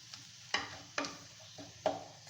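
A spoon stirs crumbled egg tikkis with onion in a pan, giving about four distinct scraping strokes with light frying crackle between them, close and fairly quiet, no voices.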